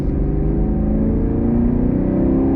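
A 2022 Chevy Camaro SS 1LE V8 accelerating hard on throttle, a steady, loud engine roar rising smoothly in pitch over a couple of seconds with no speech.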